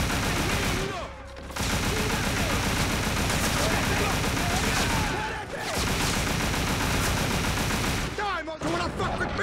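Rapid automatic gunfire from the Scarface video game, long loud bursts of shots broken by brief pauses, with a player's voice mixed in over the shooting.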